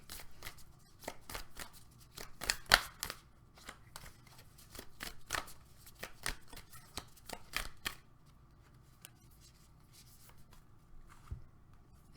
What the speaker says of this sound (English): So I'm gonna go ahead and pull a Moonology card.